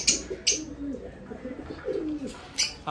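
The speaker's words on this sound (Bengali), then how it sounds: "আর এরপরে আপনাদের আমার পায়রাগুলো দেখুন" Pet pigeons in a home bird setup coo in soft, low, rolling phrases, repeated several times close by, alongside a few sharp higher chirps from other birds.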